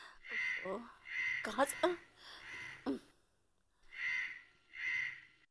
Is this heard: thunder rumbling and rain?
no